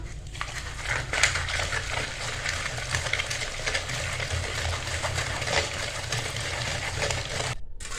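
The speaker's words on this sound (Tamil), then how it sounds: "கீரை வந்து இப்போ கடைஞ்சிக்கலாம்" Cooked spinach greens being mashed with salt and garlic in a pot, giving a continuous wet crushing and squelching texture, close and steady for the whole stretch, with no talk.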